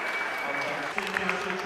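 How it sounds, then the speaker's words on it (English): An audience at a 1994 Star Trek convention costume contest claps for a contestant, a brief burst of steady applause heard from within the crowd. "Let's give our contestant one round of applause."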